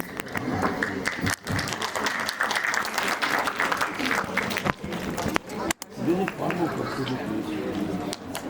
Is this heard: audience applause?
yes